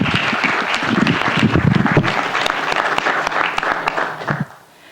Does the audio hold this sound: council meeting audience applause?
yes